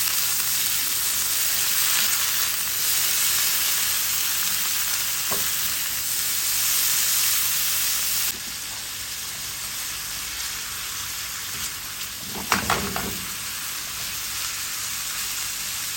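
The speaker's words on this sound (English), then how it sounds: "Now add the marinated shrimp. And give it stir for 1 minute." Marinated shrimp sizzle and crackle steadily in a hot pan while being stir-fried, a continuous close frying hiss with a brief louder clatter of stirring near the end.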